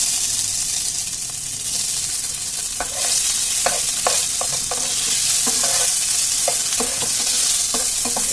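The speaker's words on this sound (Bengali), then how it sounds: "এবার জিরেটাকে একটু নেড়ে নেব। তারপর আমি সিদ্ধ আলুগুলো দিয়ে দেবো।" Cumin seeds and boiled potatoes frying in a pan, a continuous close sizzle broken by repeated sharp scrapes and knocks of a spatula stirring, loud and unaccompanied by voices.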